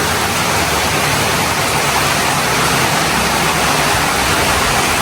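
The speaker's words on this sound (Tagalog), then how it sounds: "Malakas na po ang ulan." Heavy rain pours down in a dense, steady roar that fills the whole clip with no pauses.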